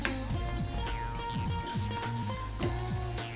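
Onions sizzle and crackle in a hot pan for an egg paratha, a steady close frying hiss with a few scraping stirs and light clinks, no voices.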